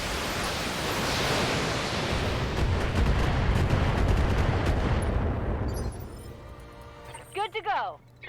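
A Gauss rifle called shot in the Battletech mech game, heard as a long, loud wash of roaring blast and rumbling impact noise that fades after several seconds, followed by a few brief electronic chirps.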